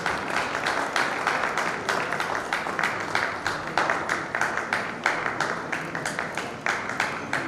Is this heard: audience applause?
yes